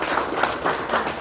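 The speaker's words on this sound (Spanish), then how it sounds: "Un aplauso para todos ustedes." Brief audience applause in a classroom after a mock civil procedure law trial, a small group clapping in an uneven patter, close and moderately loud.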